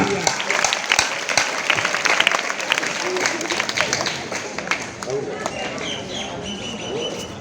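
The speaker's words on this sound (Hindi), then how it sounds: "एक बार सभी मेरे साथ दोबारा सर के लिए जोरदार तालियां।" Loud applause for a teacher at a school Independence Day celebration, a crowd clapping steadily and energetically throughout, with a few voices and scattered outdoor sounds mixed in.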